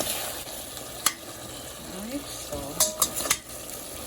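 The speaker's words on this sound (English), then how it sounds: "this is my turkey neck frying up" Turkey neck frying in curry in a pan with a soft steady sizzle, a few sharp clinks of a utensil stirring, and a brief spoken phrase.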